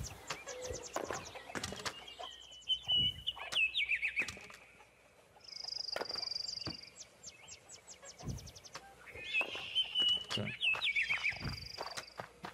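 Chickens clucking and chirping in the video game Black Book, with scattered soft calls, light footsteps and thumps at low volume in a quiet rural scene.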